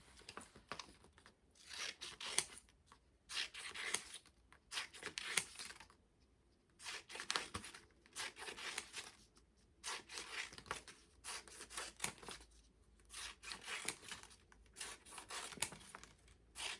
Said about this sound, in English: the part that's folded, you're gonna cut